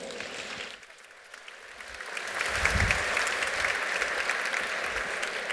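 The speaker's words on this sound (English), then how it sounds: "Your applause, please, for Axel Keller, Herbert Hofmann, Michael K" An audience at a fashion-industry debate event applauds the incoming panel speakers, clapping that starts moderately, dips briefly, then swells into a full, sustained round.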